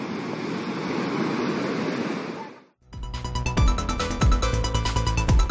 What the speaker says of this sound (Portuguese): Tá forte as ondas.